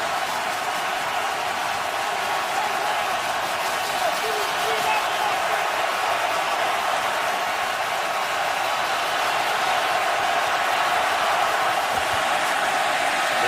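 A roaring home crowd fills the Washington Redskins stadium on third and long during a Giants game, a steady, loud wall of cheering and noise throughout, with a commentator talking over it.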